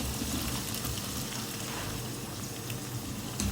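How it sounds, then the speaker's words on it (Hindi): Ginger-garlic paste and sliced tomatoes sizzle steadily in a hot pan, a dense, continuous frying hiss that stays loud and even throughout, with no voices. "फ्राई करेंगे इसको।"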